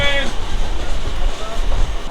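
The Kandari Express train rumbles along with a heavy low roar and rattling, close by, and a voice speaks briefly at the start.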